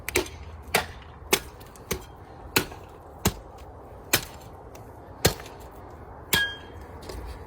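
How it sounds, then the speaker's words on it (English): A cleaver chops through deer ribs during home butchering, striking about ten sharp, separate blows at an uneven pace over a low background hum, each hit close and crisp. "we'll make a cut with a cleaver right in between there, and then just, it doesn't take a lot of hits"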